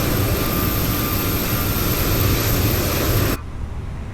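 Engines of a Fenix airliner spooling up in Microsoft Flight Simulator 2020, heard as a loud, steady jet roar with a faint high whine that drops sharply in level near the end.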